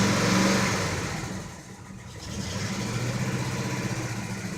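A carbureted 1984 Chevrolet pickup truck engine cold-starts nearby, revving up, dipping briefly, then settling into a steady, rough idle.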